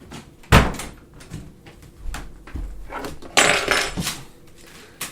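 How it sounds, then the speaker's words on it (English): A room door shut nearby, with a sharp knock near the start, some rattling handling, then a louder thudding close a few seconds later, in a quiet indoor room. "I should go shut my door and I'll be back."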